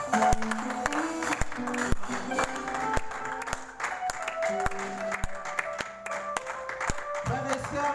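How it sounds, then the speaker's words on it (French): A church congregation applauding at a worship service, rhythmic clapping over music with sustained tones, moderately loud and continuous. "Au nom puissant de Jésus, nous acclamons l'Éternel"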